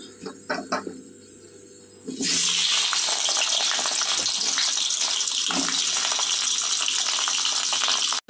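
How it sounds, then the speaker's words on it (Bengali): Potatoes and cauliflower hit hot mustard oil over tempered whole spices, bursting into a loud, continuous sizzle after a few clinks and quieter crackling at the start, staying dense and steady to the end. "ফোড়নটা ভাজা হয়ে গিয়েছে, এবার আলু ফুলকপিগুলো দিয়ে দেব।"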